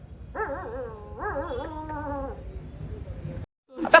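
A person imitates a dog with two whiny, howling yelps in a row, a short tail-off, and then a brief burst of noise at the end.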